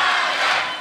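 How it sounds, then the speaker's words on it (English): Wrestling crowd at an NWA women's title match roars for Taya Valkyrie, a dense, loud wash of cheering and shouting that holds steady and eases slightly at the end. "This crowd coming alive for Taya"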